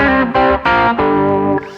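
Guitar with heavy distortion playing fourth intervals, three or four loud, buzzing, sustained dyads struck in quick succession close to the mic.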